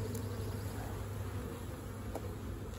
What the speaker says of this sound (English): these bees from this hive